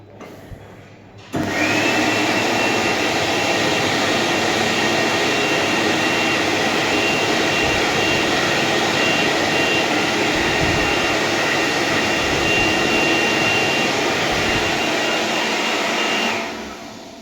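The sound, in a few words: Ardrich A260M hand dryer running in a cafe toilet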